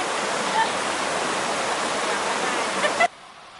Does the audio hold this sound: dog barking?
no